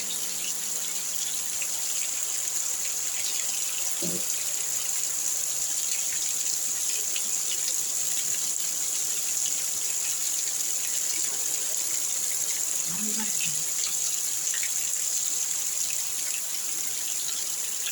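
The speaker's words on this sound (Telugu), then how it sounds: "చూడండి ఫ్రెండ్స్, వర్షం ఎలా పడుతుందో" Heavy rain falls steadily in a village, giving a dense, continuous hiss that does not change throughout, with a high insect-like whine above it and a couple of faint low thuds.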